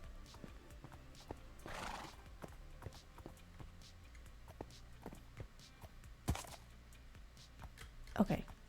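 Horses stamp and clop their hooves on a stable floor with scattered irregular steps, and a loud whinny rings out near the end; people talk quietly in the background.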